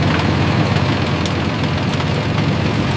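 Sugarcane harvester and tractor engines running together in a field, a loud, steady low rumble with constant mechanical drone throughout, no voices.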